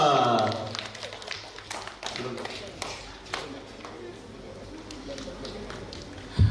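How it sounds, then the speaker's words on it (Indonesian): Audience applause at a city-level school quiz competition held for Palembang's city anniversary: a steady spatter of hand claps runs through the whole stretch, moderately loud, with voices mixed in. "boleh tepuk tangan buat Nuha"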